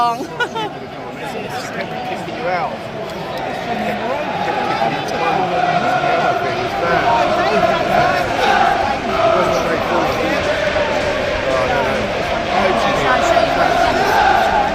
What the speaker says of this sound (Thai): ก็เป็นเสียงร้องเพลงเชียร์ จากทีมเซาแฮมตันนะคะ